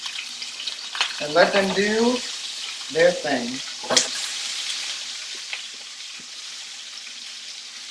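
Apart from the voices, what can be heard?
turkey meatballs frying in a pan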